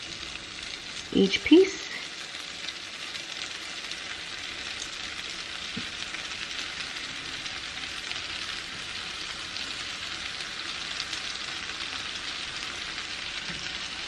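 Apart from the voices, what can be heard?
Hawaiian roll French toast frying in a pan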